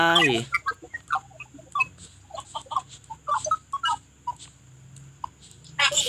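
Chickens in the video game Mini World cluck in a busy run of short, clipped calls spread across the clip, moderately close, with a brief electronic game sound at the start and end.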